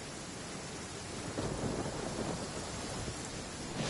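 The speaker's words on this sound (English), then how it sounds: "The rain won't slow me down." Heavy rain hisses steadily with a low rumble of thunder rolling underneath, swelling slightly midway and again at the end.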